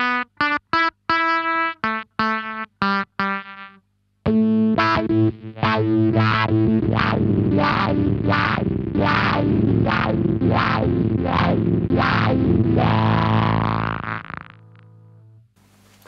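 An Electro Harmonix Cock Fight fuzz pedal on guitar, its bias turned fully anti-clockwise to mimic a dying battery and placed before the wah, gives short sputtering gated notes and then a run of swelling, sweeping sustained fuzz tones, loud and alone.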